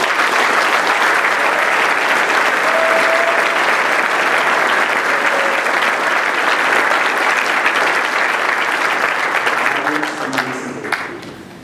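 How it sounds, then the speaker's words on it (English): Sustained applause from a large audience for nominees at a military academy graduation ceremony, a loud, dense wash of clapping that holds for about ten seconds before thinning out at the end. "Let's give them all a round of applause"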